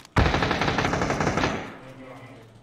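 Automatic gunfire in a PUBG match: a sudden loud burst of rapid machine-gun shots lasting over a second, then fading into echoing decay, with players talking over the game.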